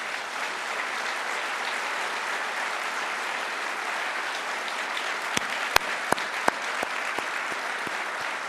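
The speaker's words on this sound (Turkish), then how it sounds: "bir birlikte alkışlasınlar" A crowd at a workers' protest applauds in a steady, dense wash of clapping that fills the space. Toward the end a few louder, sharper individual claps stand out as the applause thins.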